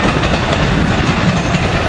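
Passenger train with cab car 9634 rolls past at Lancaster, a loud, steady close rumble of wheels on rails with continuous clatter and no voices.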